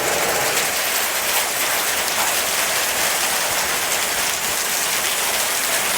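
Dense, steady hiss of marble-size hail and heavy rain pelting down during a summer storm near Kingman, Arizona, loud and continuous without a break.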